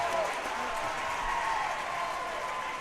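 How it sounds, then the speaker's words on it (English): Crowd noise at a high school basketball game rises after a dunk, a steady wash of cheering and clapping that holds loud throughout, with an announcer's voice riding over it. "Crowd's just eating it up out here."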